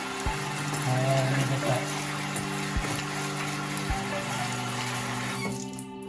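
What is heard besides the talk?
hands being washed under a running water tap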